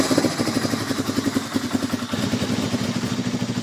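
The engine of a shaft-driven, road-registered ATV fitted with a road kit idles after warming up, a close, steady chugging with a rapid, even rhythm.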